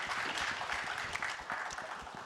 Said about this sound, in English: Please a thunder of applause for Risk Protocol.